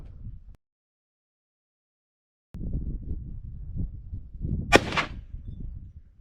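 An 1893 Marlin rifle fires one sharp, fairly loud report a few seconds in, after a stretch of silence and amid low background rumble.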